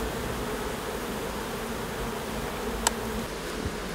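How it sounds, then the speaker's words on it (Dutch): Honeybees at their hives make a dense, steady buzzing swarm sound, close and continuous, with a couple of faint clicks near the end. "Dat waren de bijen."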